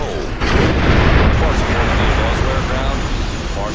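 Airstrike in the video game Ghost Recon Advanced Warfighter 2, a loud sustained rumbling blast after a brief click, with booming roar throughout and a voice briefly audible.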